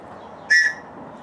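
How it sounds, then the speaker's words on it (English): One short, shrill blast from a flat survival whistle, loud and close, lasting about a quarter second over a low background hum. "I always have a survival whistle with me."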